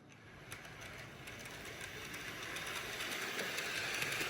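An HO scale model train locomotive running on track, a faint steady clicking and whirring that grows slightly louder over a few seconds, with no talk.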